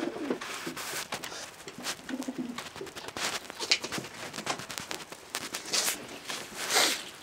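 A male pigeon of Robert Bauer line, kept in a loft, coos in soft repeated bursts at close range, with light footsteps and fluttering around it and no talk.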